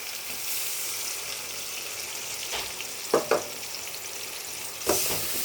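A spice mix of chilli, cumin and turmeric powder with green chilli frying in oil, a steady close hiss with a few sharp stirring knocks near the end.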